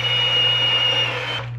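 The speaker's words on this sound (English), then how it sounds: "I got my wife's new cordless immersion blender" A cordless immersion blender whirs steadily in high gear through a batch of peppered jelly, a constant close motor hum with a bright whine that cuts off near the end.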